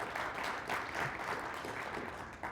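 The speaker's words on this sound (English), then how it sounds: "Hands, a big applause for them." An audience at a lifestyle training weekend applauds its leaders, a moderate, somewhat distant patter of clapping with uneven swells, heard alone.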